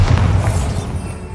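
In Hogwarts Legacy, a Bombarda blasting spell goes off as a single deep boom with a rumbling low-end decay, close and loud, fading over about a second.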